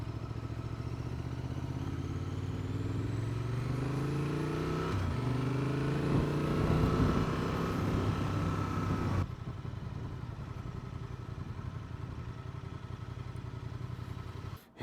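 A Honda Transalp motorcycle engine runs close by with a gruff, steady idle that rises into revving, its pitch sweeping up and down before settling into a lower, quieter run.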